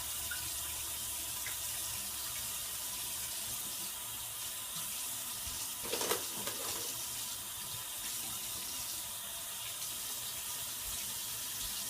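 A sink tap runs steadily while makeup brushes are washed under it, making a constant close splashing rush with a brief burst of sharper spatter midway. No one speaks.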